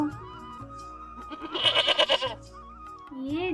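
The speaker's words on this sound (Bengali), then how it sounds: "আর তখন ছাগলটা ডাকতে শুরু করে দিল।" A goat bleating in a Bangla children's cartoon, a short wavering cry in the middle framed by a synthetic musical background tone.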